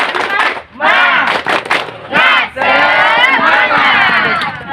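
An arena audience at a quiz show shouts a loud, energetic chant together, sustained voices swelling in bursts over about five seconds with brief dips between phrases; rhythmic clapping is not clearly separable from the crowd's shouting.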